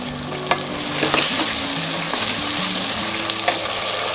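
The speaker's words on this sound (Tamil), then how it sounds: "அந்த 4 வெங்காயம் சேர்த்துக்கலாம்." Onions sizzling in a pan with a steady, loud frying hiss while a utensil scrapes and stirs them in irregular strokes, with no talk.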